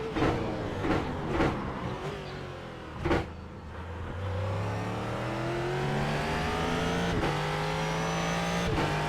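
Ford GT race car in the iRacing sim, the engine blipping through sharp downshifts with a few quick revs, then climbing in a long, steady roar of acceleration, loud and close with no talk.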